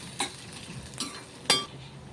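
Sliced onions frying in a pan for goat liver curry: a soft, steady sizzle broken by three clinking stirs of a spoon against the pan, quiet and close, with no talk.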